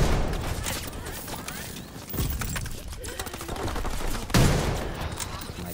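A blunderbuss shotgun in a WW2 video game fires amid dense battle noise, with sharp, heavy blasts punching through a rattling din of gunfire, one especially strong shot near the end.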